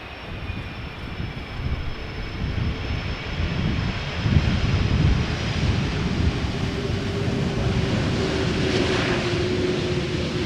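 Turkish Airlines jet airliner at Schiphol Airport, a broad roaring rush of engine noise that swells and holds steady at a moderate distance, with a thin whining tone above it.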